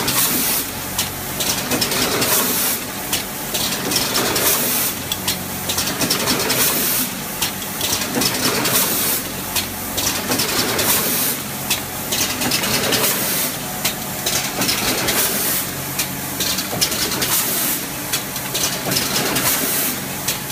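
A pouch packing machine for 6 mm cigarette filters runs continuously, giving a steady mechanical hum and hiss with a regular pulsing rhythm of repeated cycles, loud and close, with no talk.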